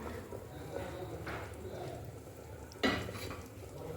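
Parboiled potatoes are lifted from a pot into a bowl in a home kitchen, heard as faint scraping and clinks over a low background, with one sharper knock near the end and a voice speaking softly underneath.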